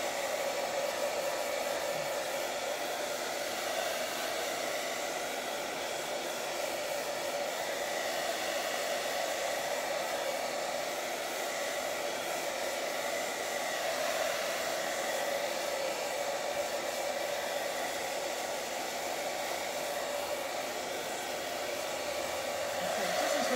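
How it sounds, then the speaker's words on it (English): A hair dryer blows with a steady, loud whoosh and motor hum, running continuously without pause for over twenty seconds. "speeding it up with the hairdryer."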